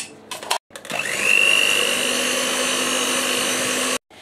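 An electric mixer whisks a 250 g tub of quark into a blended cheesecake mixture, a steady close-up motor whir with a rising pitch as it spins up, ending with an abrupt cutoff.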